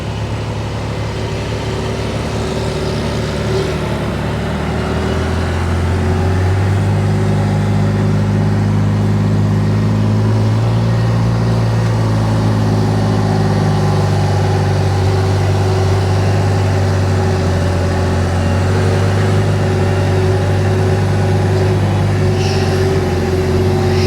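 Heavy engine of a tractor pulling a dirt pan during land clearing on a ridge, a steady loud low drone that shifts in pitch as it works and scoops soil, continuous and close with no talk.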